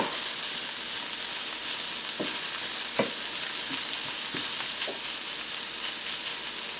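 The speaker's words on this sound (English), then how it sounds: "when you're sauteing the onions" Onions sizzle and fry steadily in a pan for a broccoli and ham quiche, a constant hiss with occasional louder crackles and stirring clicks, close up with no talking.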